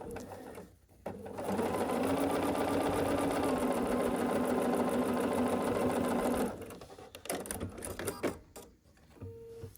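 A sewing machine stitches a scrappy quilt block square, running at a steady close whir for about five seconds after a brief start, then stopping into light handling clicks.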